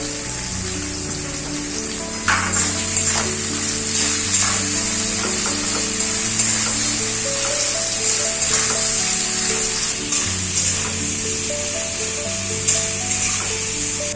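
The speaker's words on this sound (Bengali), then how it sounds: "পেঁয়াজগুলো হালকা করে ভাজা হয়ে গেছে দেখুন বেশি লাল করা নেই" Sliced onions fry in oil in a pan, a continuous close sizzle that starts abruptly and holds steady with occasional crackles, while a faint tonal hum runs underneath.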